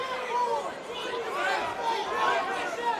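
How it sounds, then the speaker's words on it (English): Crowd at a women's MMA fight cheering and murmuring steadily throughout, a moderate, sustained roar of many voices, with a commentator's voice on top. "And you can hear the response from the neutrals in the crowd"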